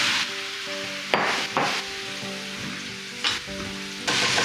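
Mushrooms sizzle loudly in hot oil in a frying pan for a red wine mushroom polenta, a steady close crackle with a few sharper bursts as they are stirred and moved, and no talking.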